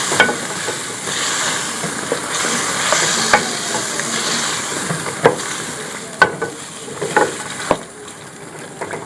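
Chicken Shinwari karahi cooking gently over a low flame, with a steady soft sizzle and hiss, occasional stirring clinks and scrapes, and a few sharp ticks toward the end.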